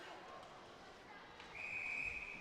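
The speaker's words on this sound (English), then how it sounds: "Got a whistle blown" A referee's whistle cuts in sharply during a women's ice hockey game at the Esso Cup nationals, one sustained shrill blast lasting about a second over steady arena crowd noise.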